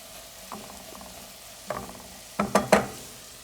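Apples with cinnamon cooking in a pot for apple cinnamon oatmeal, giving soft bubbling and sizzling with a few louder pops and stirring knocks toward the end, close and fairly quiet.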